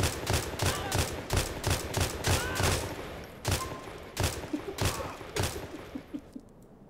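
Rapid bursts of gunfire in the video game GTA IV with the LCPDFR police mod, loud repeated shots in a steady volley that thins to scattered reports, with excited voices shouting over them.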